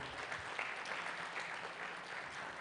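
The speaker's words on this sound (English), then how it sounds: "The round of applause, to be honest, has to be louder" Faint, steady audience applause at a product launch event, a continuous texture of many hands clapping heard from a distance for a few seconds.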